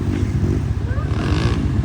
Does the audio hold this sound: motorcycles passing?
yes